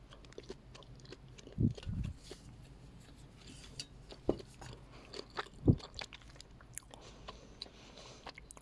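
Bashkir edible clay called Ufimochka being chewed slowly, a dense creamy lump giving faint close mouth sounds with a few sharp crunchy bites scattered over a quiet background.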